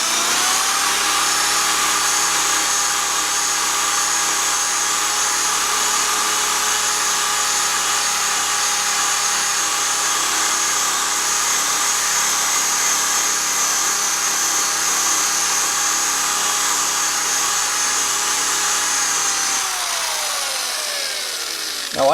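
A Flitz polishing system power tool runs at a constant high-pitched whine for about twenty seconds, loud and close, then winds down at the end.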